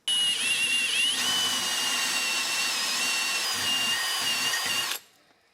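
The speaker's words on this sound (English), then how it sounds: "First step is to drill the hole out. I'm just going to do all 4 of them." A power drill drilling holes in metal on a vintage two-stroke Suzuki T500 motorcycle engine whines steadily at high speed for about five seconds, loud and close, then winds down and stops.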